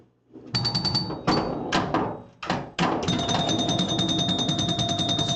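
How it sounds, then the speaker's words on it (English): Pinball spinner chimes from an Eight Ball pinball video game, a burst of rapid clicking chime hits in quick clusters, then a sustained bright ringing tone held steadily, close and fairly loud with no talk. "Spinner chimes are awesome."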